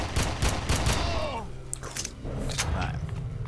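Shotgun blasts in the video game Red Faction, a rapid burst of several sharp shots followed by a few scattered reports, with a voice talking over the firing.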